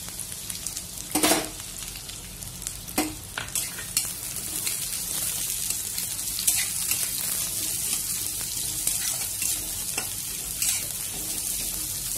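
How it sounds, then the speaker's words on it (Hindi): Chopped onions dropped into hot oil and frying while making egg kulcha, a steady close sizzle with sharp crackling bursts and occasional stirring clatter throughout. "अब इसमें डालेंगे प्याज"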